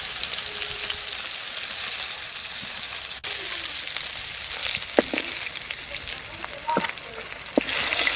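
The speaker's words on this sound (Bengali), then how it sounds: "এইভাবে মাছগুলো ভেজে নেব।" Pieces of bhetki fish frying in hot oil, a steady close sizzle throughout with occasional pops and spatters, and the faint clink of a utensil.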